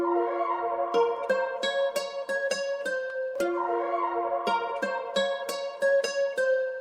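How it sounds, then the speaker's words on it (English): Layered synth melody in a trap beat, a soft synth pad doubled with a bright plucked lead that strikes in quick repeating runs, looping steadily and loudly with no voices. "So we got that layered with our original kind of sound here."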